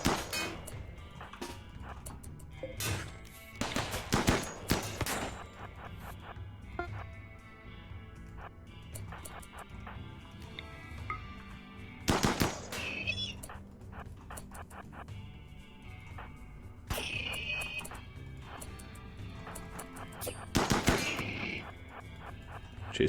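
Turret gunfire in the video game RimWorld sounds as bursts of rapid shots and sharp blasts at irregular intervals, with quieter stretches between the louder volleys.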